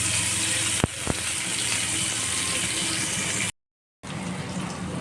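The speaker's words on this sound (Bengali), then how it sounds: "দিয়ে তারপরে পনিরগুলো ভাজতে দেবো" Paneer fries in a pan with dried chillies and garam masala, giving a loud, steady close sizzle with a couple of sharp clicks near the start and a brief total dropout before it resumes, with no voices.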